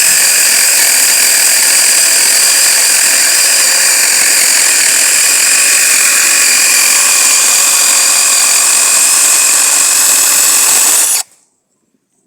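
A vTekk cordless dual-battery chainsaw runs loud and steady with a constant motor whine for about eleven seconds, then cuts off abruptly into near silence.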